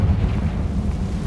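Bombarda and Confringo spells blasting in Hogwarts Legacy give a short, loud, low rumbling explosion that swells and lingers briefly with no voices over it.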